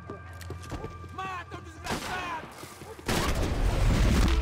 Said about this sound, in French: Boom, headshot.